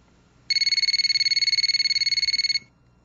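A mobile phone rings with a bright electronic ringtone, a rapid steady pulsing trill lasting about two seconds, loud and close over a quiet room.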